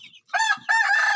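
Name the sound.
village chickens and chicks clucking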